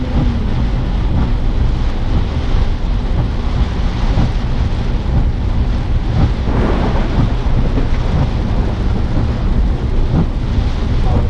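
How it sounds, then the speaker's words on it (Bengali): Heavy downpour on a car driving the NH 275 highway from Mysore to Bengaluru, a steady, loud roar of rain drumming without pause, with deep rumbles mixed in and no voices. "প্রচন্ড বৃষ্টি হচ্ছে, পেছনে কিছু দেখা যাচ্ছে।"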